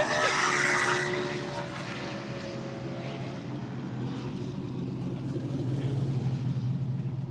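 Drag race car engine struggling at a Southeast Street-N-Yeet track day, a distant, strained roar that fades then slowly swells again over a constant low rumble, with no talk over it.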